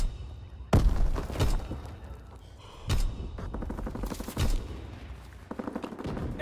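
Gunfire in the war video game WAR, with repeated bursts of loud, close rifle and machine-gun shots in irregular clusters over a steady battlefield din, no talking.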